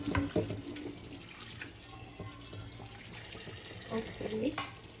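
Raw chicken being washed under a running kitchen tap, water splashing steadily into a sink with clatters of handling, close by, with faint talk in the background.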